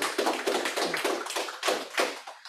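A room full of people at an info session claps in steady applause for a couple of seconds, the clapping swelling in waves before tapering off.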